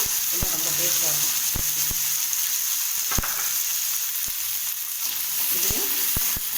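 Small onions and garlic sauté in a pan for chutney, giving a constant bright sizzle with sharp, irregular knocks and scrapes from a stirring spoon, while a voice talks faintly in places.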